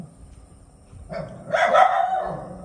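A dog gives one short burst of barking outdoors, starting faintly and then rising to a sharp, moderately loud yelp, with no talking over it.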